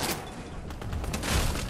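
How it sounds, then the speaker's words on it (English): Rapid gunshots hitting a built wall in Fortnite, a dense crackling burst of close impacts that keeps up through the short moment and grows slightly louder toward the end. "he just shot at my wall there"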